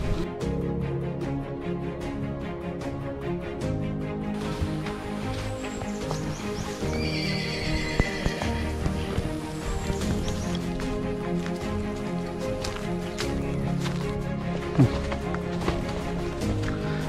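A horse carrying hiking bags on a thorny, insect-filled trail in Bataan snorts and whinnies, with hooves clopping and shuffling nearby, amid outdoor background noise.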